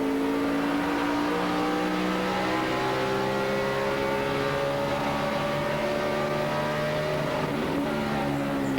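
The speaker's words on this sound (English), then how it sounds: "You heard the engine too sputtering on the rev limiter" A 2005 Busch Series stock car engine screams loud and close at a constant high pitch, held against the rev limiter at Gateway, its tone stuttering slightly the whole time.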